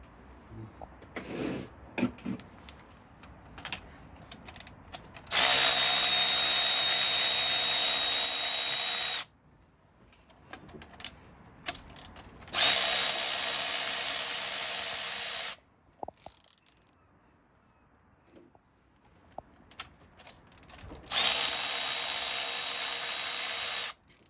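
Spark plugs being worked out of an engine with hand tools: brief clicks and handling noises, then three long, loud bursts of rapid ratchet clicking, each lasting several seconds, separated by quieter pauses.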